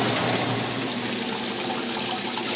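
Water from a washing machine drain hose pours out into a flower garden outdoors, a continuous, loud gushing splash without pause.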